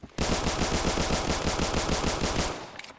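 Gunfire rattles in a rapid, evenly spaced burst of repeated shots that holds loud and steady for over two seconds before cutting off, with a few faint scattered pops after.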